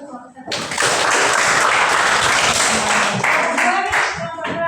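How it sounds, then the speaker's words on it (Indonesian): A classroom bursts into applause for a group of students, a dense, close clatter of many hands that keeps going for several seconds after a short opening voice and then fades. "Kasih tepuk tangan buat kelompok 1."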